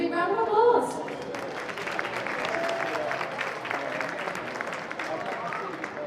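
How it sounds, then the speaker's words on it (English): An audience applauds for a dance school troupe arriving on stage at a live show, steady moderately loud clapping sustained throughout, with a voice briefly heard over it at the start. "so give them a big round of applause"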